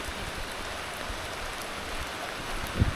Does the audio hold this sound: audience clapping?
no